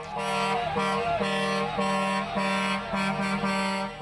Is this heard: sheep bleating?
no